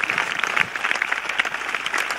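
A church congregation applauds together at a New Year's Eve vigil service, a steady dense patter of many hands clapping close and loud throughout, with no speech over it.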